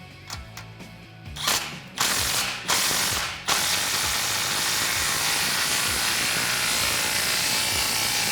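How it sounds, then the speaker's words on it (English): Impact gun with a 15mm socket tightening the exhaust clamps on a 2019-2022 Silverado 1500 5.3L during an MBRP single exhaust install: a few short loud rattling bursts, then one long sustained hammering run close by, with no talk. "Now I'm going to use my 15mm socket on my impact gun and tighten up the remaining clamps."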